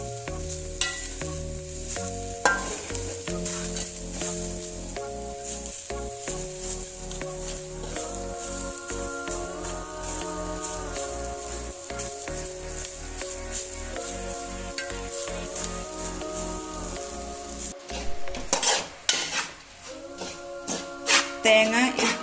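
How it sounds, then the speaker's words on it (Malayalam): Grated coconut fries and is stirred in a pan, with a running sizzle and scraping under steady background music, growing choppier toward the end. "തേങ്ങ ഒരുവിധം ഫ്രൈ ആയിട്ടൊക്കെ വന്നിട്ടുണ്ട്."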